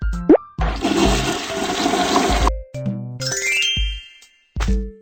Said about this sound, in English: Flush the toilet after using the bathroom.